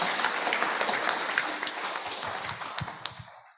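Church congregation applauding the Tech Committee during a worship service, a dense, continuous round of clapping from many hands in a large room, fading out toward the end.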